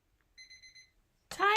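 A kitchen timer alarm goes off while resin hardens, giving four quick, evenly spaced electronic beeps, clear and close in a quiet room, followed by a burst of noise.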